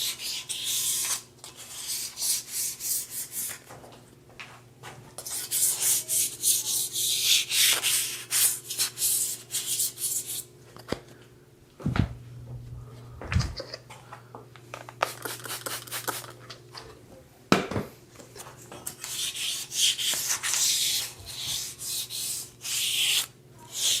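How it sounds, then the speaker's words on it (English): Steady scratchy rubbing of fine 1,000-grit sandpaper lightly sanding paint on a BMX bike, in repeated strokes with short pauses between, close and fairly loud, with no talking. "Just a light sanding."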